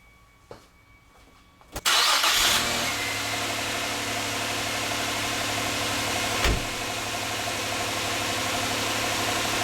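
A cold 4th-generation Nissan Maxima engine cranks and catches after an EGR tube repair, then settles into a steady, loud idle with one brief rev partway through.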